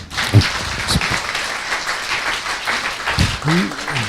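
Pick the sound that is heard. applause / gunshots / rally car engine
applause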